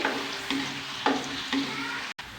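Medium-sized sliced onions frying in a pot, a steady close sizzle broken by three scraping strokes of a spoon stirring them, with no speech.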